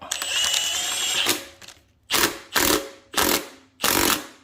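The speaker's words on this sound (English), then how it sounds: "All right, third bolt. I'm gonna quickly tighten her up." A ratchet wrench tightens a bolt on a Honda Prelude manual transmission. A long, steady run of clicking comes first, then four short, loud bursts of ratcheting in an even rhythm, close up and without talk.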